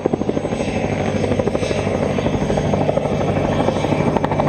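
Police training helicopter in flight over Kharkiv, a steady close rotor thump and engine whine running continuously throughout with no voices.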